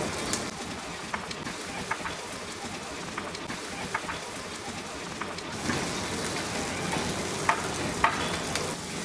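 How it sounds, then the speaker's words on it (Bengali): A blended paste of onion, garlic and spices fries in oil for an Afghani egg curry, making a faint, even sizzle with occasional soft pops and light stirring scrapes throughout. "এখন এই একই তেলের মধ্যে যে মশলাটা আমি ব্লেন্ড করে রাখলাম, পেঁয়াজ রসুন এইগুলাকে দিয়ে আমি একটু ভুনে নিব"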